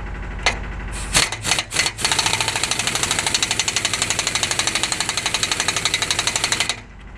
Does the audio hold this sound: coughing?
no